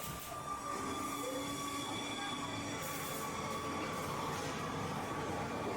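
Subway train set piece in a haunted house attraction: a steady, close rumble of rail wheels with squealing metallic tones running throughout, no talk.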